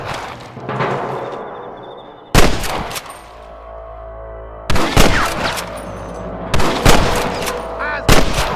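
Gunfire in the Red Dead Redemption western video game: four sharp, loud volleys of shots crack out at irregular intervals, each followed by a ringing tail, with a steady low background rumble between bursts.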